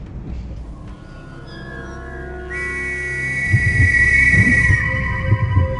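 A long, steady, high train whistle sounds in The Last Express video game for a couple of seconds over the low, continuous rumble and rhythmic clatter of a moving train.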